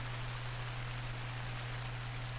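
Steady rain pouring down in the hunting game The Hunter: Call of the Wild at Layton Lakes, a constant even hiss with a low hum underneath, with no pauses or other sounds.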